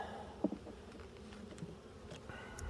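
A honeybee colony buzzing softly during a hive frame inspection, a faint steady hum with a few brief nearby buzzes and light handling noises, no talking.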